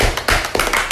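Podcast hosts clapping their hands in a quick run of close, sharp claps with no talk over them.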